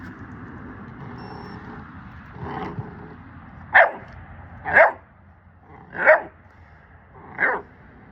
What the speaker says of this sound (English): It's starting to get a bad habit of barking.